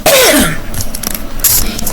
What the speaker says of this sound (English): I've been coughing a little bit off and on.